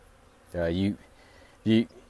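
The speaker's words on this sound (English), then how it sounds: "There's so many darn bees in there." Honeybees from a very large colony in a radio-tower hive buzz loudly and close by in two distinct bursts separated by a short lull.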